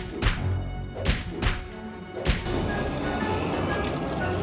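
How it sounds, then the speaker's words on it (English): A wall being torn down in an animated cartoon: several heavy thuds and whacks in quick succession, then a crumbling crash that settles into a sustained rubble rumble. "All right, men, tear that wall down."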